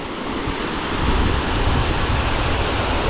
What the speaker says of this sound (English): So I'm up on top of the waterfall now.